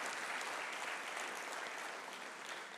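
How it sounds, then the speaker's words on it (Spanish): Audience applause at a civil service governance congress panel, a dense steady clapping from a crowd that continues throughout and tapers slightly at the end. "Un fuerte aplauso para Carlos Salazar."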